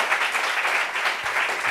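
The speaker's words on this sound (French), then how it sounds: "Je voudrais qu'on applaudisse le gouvernement." An audience at a meeting of blind and visually impaired people breaks into steady, dense applause that holds evenly from start to finish, with no voices standing out.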